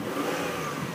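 A 2002 Mitsubishi Diamante LS engine running with a slight misfire and its check engine light on, a close, steady mid-pitched hum lasting about a second.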